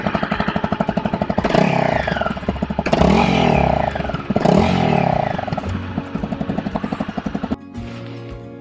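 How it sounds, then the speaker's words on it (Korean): A Honda CRF 250 Rally single-cylinder off-road motorcycle on its stock exhaust revs up close, with a thumping idle broken by three sharp throttle blips that rise and fall, then a brief drop near the end. "순정 배기음 소리를 한번 들려드릴게요."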